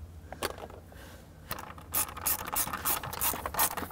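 Screws are driven in to fix a subwoofer cover in a Mercedes E-Class Cabriolet, giving a quiet series of ratcheting, scraping turns that build into rapid bursts.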